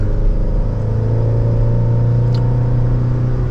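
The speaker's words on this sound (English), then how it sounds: "And we're up to speed just like that with a mild acceleration." A 2023 Chevrolet Colorado ZR2 pickup engine gives a steady, low rumbling drone under mild acceleration, loud and close with no talking.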